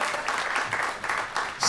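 Audience applause for a state senator at a community event, steady broadband clapping lasting under two seconds with no pause.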